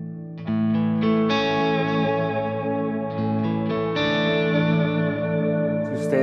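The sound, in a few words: guitar with 5% overdrive on NUX MG30 multi-effects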